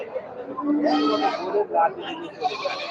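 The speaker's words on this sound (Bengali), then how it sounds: "সবগুলোই কিন্তু ব্ল্যাক বেঙ্গল জাতের ছাগল প্রতি রবিবার সকাল থেকে দুপুর পর্যন্ত কেনাবেচা হয়" Black Bengal goats bleat at a busy Sunday morning goat market, with one wavering, nasal call standing out near the listener. People talk throughout.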